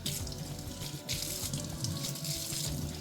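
Water runs steadily from a tap or shower, rinsing conditioner out of natural hair, a continuous close gush with small splashing shifts throughout and no talking.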